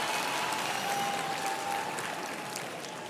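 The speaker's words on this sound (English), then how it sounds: "So I now ask our graduates to give their family, friends, and support system a round of applause." Graduates at a university graduation ceremony applaud their families and supporters, a broad, steady wash of clapping from a large crowd that fades slightly toward the end.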